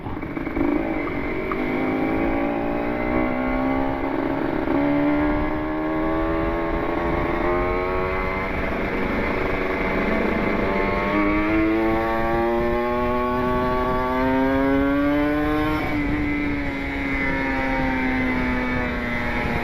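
A Kawasaki Ninja RR two-stroke motorcycle ridden through city traffic, its engine note rising and falling steadily with throttle changes, loud and close throughout with road and wind noise beneath.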